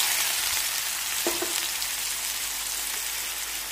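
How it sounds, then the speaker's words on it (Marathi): Finely chopped onion hits hot oil tempered with cumin seeds, setting off a loud, steady sizzle up close, with a couple of brief clinks of a utensil partway through and no talking. "आपण ह्यामध्ये बारीक चिरलेला कांदा घालूया"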